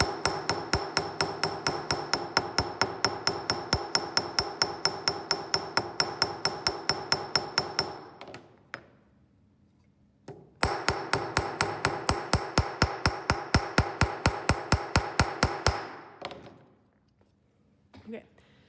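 Rapid, evenly spaced metallic strikes of a texturing hammer on a metal ring in two long bursts separated by a short pause, close and ringing.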